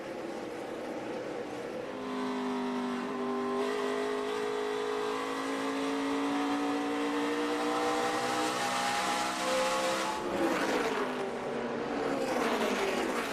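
NASCAR Nationwide Series stock cars racing at the 2013 DuPont Pioneer 250, a loud sustained engine roar with rising and falling pitch as several cars run close together, sweeping past near the end.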